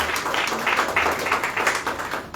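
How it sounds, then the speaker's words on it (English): Audience applause at a book release function welcoming the chief guest, a steady wash of many hands clapping at moderate distance, even and sustained with no voices on top. "kindly join me in welcoming our chief guest, Dr. Remy Dice, with a warm round of applause"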